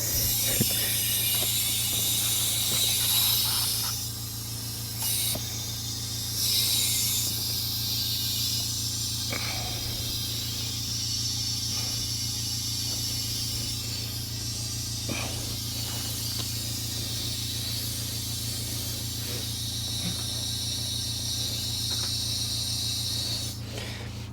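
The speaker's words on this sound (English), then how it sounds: "And let the compressor air up." An air compressor inflates a tire on a jacked-up vehicle, giving a steady, continuous motor hum under a broad airy hiss that runs nearly unchanged for the whole stretch, with no talking.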